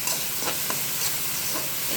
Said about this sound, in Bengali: শুটকি, পেঁয়াজ, মরিচ